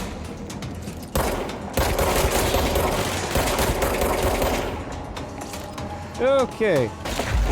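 Rapid bursts of automatic gunfire in the video game Control blast chunks out of a wall, dense crackling impacts and debris rattle, followed by whooshing energy effects, with a brief spoken word.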